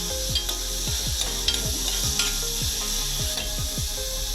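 Onion, ginger, turmeric and curry leaves fry in a pan, a steady close sizzle under repeated scraping strokes of a spoon stirring the mix, with no voices.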